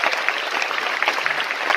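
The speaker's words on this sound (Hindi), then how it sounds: "एक जोरदार तालियां के लिए।" An audience breaks into steady, dense applause at a stage event, many hands clapping together evenly from start to finish with no voices rising above it.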